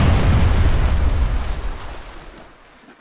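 A fire ship rams and explodes in the Age of Empires 3 video game, a single heavy booming blast that rumbles loudly and then fades away over a few seconds.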